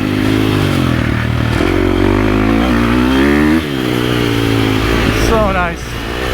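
A stock 2023 KTM 350 SX-F dirt bike engine revs hard and pulls up through the rpm range, its harmonics sweeping upward and dipping briefly, loud and close for the whole stretch, with a voice speaking over it.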